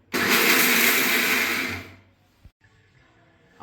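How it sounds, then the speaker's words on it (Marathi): A kitchen mixer grinder runs loud and steady on almonds, pistachios and cashews for about two seconds, then winds down and stops, leaving a faint clunk and quiet room noise. "आपण हे जरा मिक्सरला फक्त एक वाट हे घेऊन घ्यायचं आहे."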